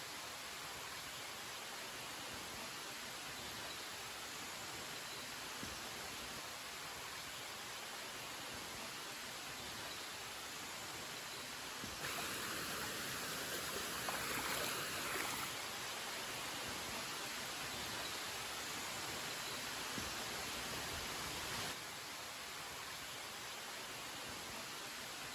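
A mountain waterfall in the Cantal rushes in a steady, dense hiss of falling water that continues unbroken and close, briefly growing a little louder and brighter partway through.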